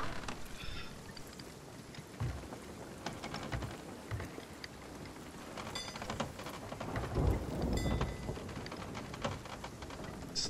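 Steady rain and rumbling thunder of a storm at sea in Sea of Thieves, a continuous wash of noise with a few heavier swells, loud and close.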